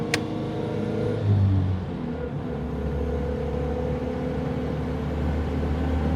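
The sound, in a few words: Lanchester LD10 car driving on open road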